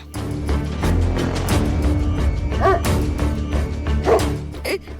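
A dog barks and yips in short bursts amid a busy, noisy background, with a few sharp louder calls near the end.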